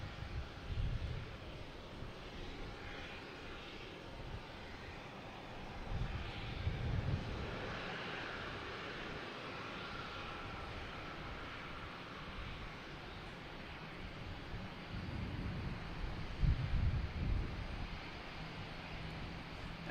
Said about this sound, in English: We have a Delta coming in from San Juan. Flight 1780.